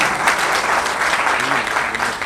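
An audience claps steadily at an Uttarakhand film and theatre institute event, a dense, sustained burst of applause filling the room with a few murmuring voices faintly beneath it.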